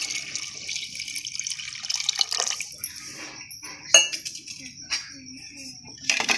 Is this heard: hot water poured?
yes